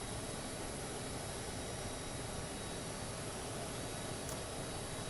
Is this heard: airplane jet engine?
yes